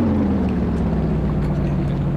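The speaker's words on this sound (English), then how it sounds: "let's turn the engine on" Inboard engine of a sailboat running during stern-to mooring, a steady low droning hum that holds even and constant throughout, close by and fairly loud.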